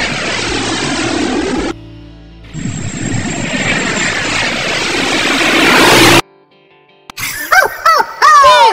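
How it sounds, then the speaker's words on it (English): A jet aircraft roars loudly in a broad rushing burst that cuts off briefly and then returns. Sharp chirping tones follow near the end after a short silence. "J for jet."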